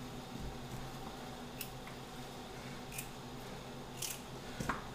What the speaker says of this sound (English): Just gonna cut these down so they blanch pretty quickly.